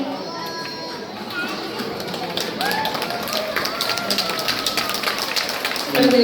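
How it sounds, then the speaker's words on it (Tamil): Audience applause at an honouring ceremony at a college Tamil festival, steady broadband clapping from a crowd lasting several seconds, with some voices and tapping mixed in. "கைத்தட்டங்களோடு அவருக்கான கௌரவம் வழங்கப்படுகிறது"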